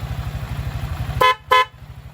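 Two short loud honks from a dual car horn in quick succession, close by, over the low rumbling of an idling engine.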